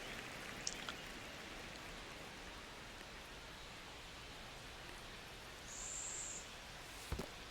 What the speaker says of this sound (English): Rain is coming down hard.